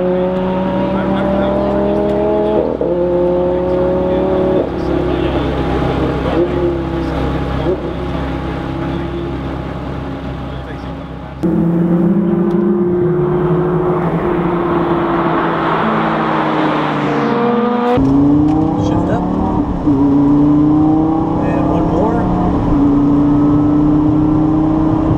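A Lamborghini sports car accelerates hard at Texas Motor Speedway, its loud engine rising through the revs in repeated climbing sweeps, dropping at each gear shift and then building again, close and sustained for the whole stretch.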